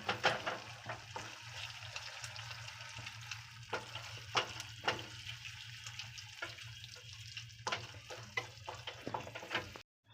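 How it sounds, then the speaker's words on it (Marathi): Gravy made with tomato sauce and a flour-and-water paste simmers and sizzles in a pan for about ten seconds, with irregular stirring scrapes and clinks over a steady bubbling hiss. No one speaks. "ग्रेव्ही शिजवून घेऊया."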